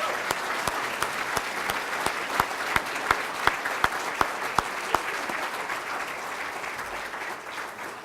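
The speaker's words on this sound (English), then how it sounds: "How about another round of applause for all of our students?" An audience at a scholarship luncheon applauds the students, with sustained clapping in which a few sharp, rhythmic close claps stand out before it thins toward the end.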